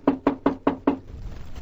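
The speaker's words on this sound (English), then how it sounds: "when the knock came at the door" Five sharp knocks rap on a door in a quick, even sequence, close and distinct, followed by a quiet room.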